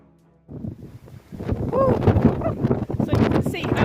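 Strong wind buffets the microphone at castle battlements, a steady roaring rumble that rises after the first half second and gusts unevenly, with someone talking over it throughout.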